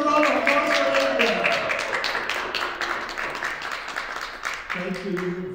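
A concert audience at an Albanian Balkan ensemble performance claps in a dense, steady patter for a band's clarinetist, with a voice speaking over the start and end.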